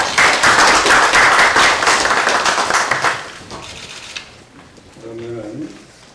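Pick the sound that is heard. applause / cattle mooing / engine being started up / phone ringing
applause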